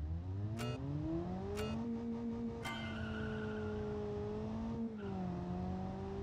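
A rally-prepared Fiat 126p drives in the video game BeamNG, its small engine revving steadily and rising in pitch, with sharp clicks as gears shift and dips between them, loud and close with no talk.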